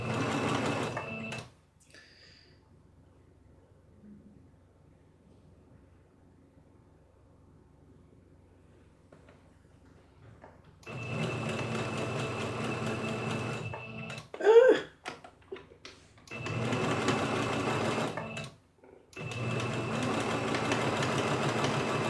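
Home sewing machine stitching quilt blocks runs in steady mechanical bursts, with a long quiet pause early on, then several loud sustained whirring runs broken by brief stops.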